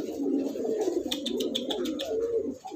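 A racing pigeon coos steadily and close, a low continuous warbling murmur with a run of faint higher clicks or chirps in the middle, no talk over it.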